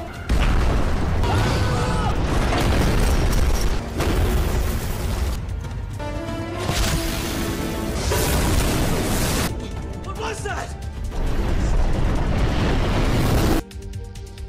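A grenade blast and heavy booms strike a German army fortress in a war film battle scene, loud bursts and rumbling impacts mixed with music and a narrating voice.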